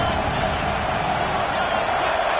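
A loud, steady roar of a large college football stadium crowd, dense and continuous, cheering without pause against the offense.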